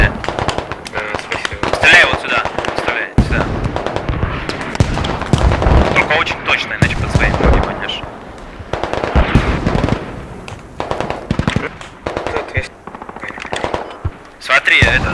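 Rapid bursts of automatic gunfire in the video game Squad, loud and near, continuing with only brief gaps, with voices talking over the shooting at times.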